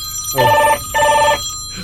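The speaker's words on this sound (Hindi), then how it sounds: "फ़ोन की घंटी बज गई।" A telephone bell rings twice in two long electronic bursts with a short pause between, loud and close, with no talk.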